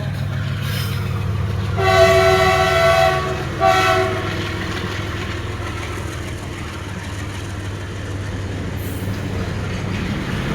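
A train at a closed railway level crossing sounds its horn in two loud blasts, the first longer and the second shorter, over the constant near rumble of the passing cars.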